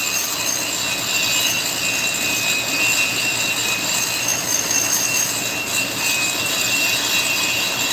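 A rotary tool grinds out the exhaust port of a Stihl MS500i chainsaw cylinder, giving a loud, steady, high-pitched whine that runs unbroken throughout with no voices.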